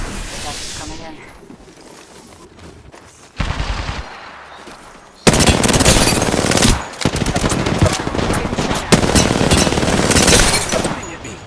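Gunfire in Apex Legends on PS5: after a quieter stretch, loud rapid automatic bursts erupt and continue densely for several seconds, close and sustained, with in-game voices speaking over parts of it.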